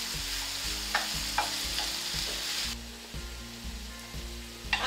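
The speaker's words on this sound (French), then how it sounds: "On doit être tout prêt pour mélanger tout le temps, il ne faut pas laisser brûler." Onions for a leek omelette fry in a pan with a steady close sizzle, broken by regular scraping strokes of a utensil stirring them, roughly every half second, with no voices.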